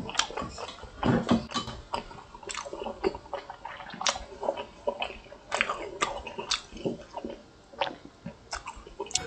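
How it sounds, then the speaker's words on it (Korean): Close, wet chewing of Yeopgi Tteokbokki rosé rice cakes, with soft sticky bites and squishy mouth sounds in an uneven rhythm and no talking. "한 번만 더 먹어볼게요"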